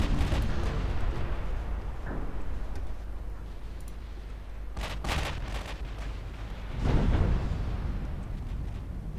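Battleship gunfire in the naval video game Ultimate Admiral Dreadnoughts, deep booming rumbles with a few sharper bursts of shell fire around the middle and a heavier blast near the end.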